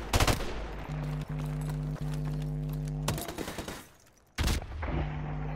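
Gunfire from Call of Duty Modern Warfare Remastered: sharp bursts of automatic fire at the start and near the end, with a steady humming drone and a few isolated shots in between, no voices.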